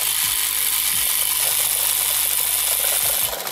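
A small homemade belt-driven machine spools 135 meters of tape onto a reel, giving off a steady, loud mechanical whir and rubbing hum that dips slightly at the very end.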